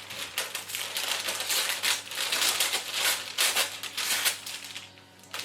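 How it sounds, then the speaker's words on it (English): Greaseproof baking paper is torn slowly by hand close up, a ragged run of crackly ripping bursts with brief gaps, crisp and fairly quiet. "I'm just gonna rip it carefully"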